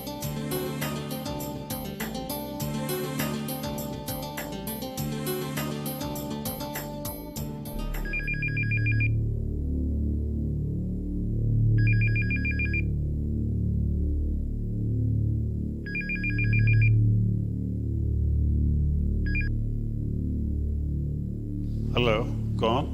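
A telephone rings indoors in short repeated bursts, four distinct rings spaced a few seconds apart, after background music cuts out, over a low steady room hum.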